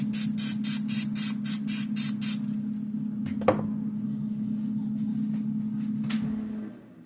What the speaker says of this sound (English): y'all know I gotta hit them with some spray too